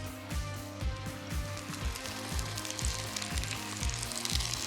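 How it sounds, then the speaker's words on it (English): Loin bacon sizzles and crackles steadily in a hot skillet, a dense close-up fry with a rhythmic scraping or stirring pulse underneath and no talking. "And while this bacon gets nice and crispy"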